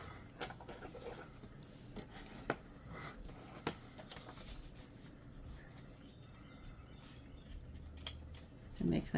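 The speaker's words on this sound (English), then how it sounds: "We'll just come back and trim that little bit off with the scissors." Small craft scissors snip a torn edge of paper for a hidden journaling pocket, a few quiet, sharp cuts close by amid faint rustling and soft handling noise.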